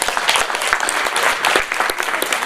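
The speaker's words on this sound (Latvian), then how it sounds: "Aplausīt!" Audience clapping at a lively Latvian ideas event, a steady dense patter of many hands, close and full, holding evenly for a couple of seconds with no talk over it.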